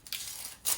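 Close crackling and crushing of papery onion skin as a raw onion is peeled by hand, a quick brittle rustle ending in a sharper crunch.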